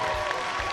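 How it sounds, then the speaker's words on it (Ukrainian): A concert audience at a Dargin song performance claps in a dense, steady burst of applause that lasts under a second. "не выйдет без ваших аплодисментов"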